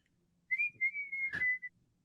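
A person whistles a short four-note tune imitating the mockingjay call from The Hunger Games, a clear close whistle with a brief rustle near the end and no talking.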